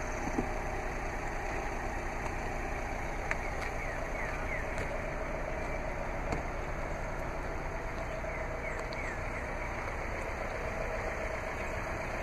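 Idling 2013 Fiat 500 Pop with a 1.4 liter MultiAir DOHC four-cylinder engine, a quiet, even, continuous hum heard from a distance with faint mechanical ticking and no voices.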